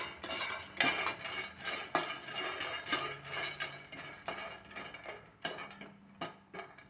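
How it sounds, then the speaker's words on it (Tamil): About 100 grams of peanuts dry-roasted in a pan over a low flame for chutney, giving repeated clattering, scraping stirs of nuts and ladle against metal at a steady, moderately close rhythm. "சிம்மில் வச்சுட்டு ஸ்லோவிலே வச்சுட்டு வறுக்கணுங்க"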